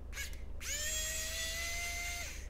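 PKEY mini cordless electric screwdriver backing tiny screws out of the front of a DeWalt Atomic laser level: a brief buzz, then one steady high-pitched motor whine lasting under two seconds, close up with no talking.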